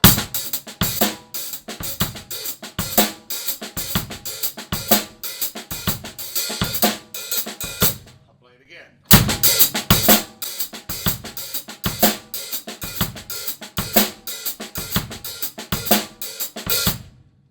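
A Purdie shuffle drum groove plays at a steady swing, ghost note left out after the backbeat, hi-hat opening and closing on each beat, briefly cutting out midway before resuming.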